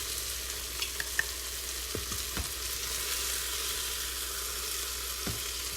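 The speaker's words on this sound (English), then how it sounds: "So I'm gonna deglaze it." Liquid poured into a hot Instant Pot to deglaze ground beef stuck to the bottom while making sopa de fideo, producing a steady close sizzle with a few scraping stirs, no talking.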